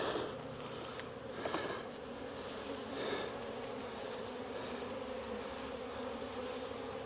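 Honeybees in an open hive during inspection of a cell builder colony, a steady close dense buzz filling the whole stretch, with a few louder passes of individual bees near the listener.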